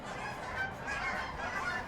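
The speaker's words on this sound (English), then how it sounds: "despite what those geese are saying" Geese honking outdoors in a continuous noisy chorus, moderately distant, lasting the whole moment with no other clear sound.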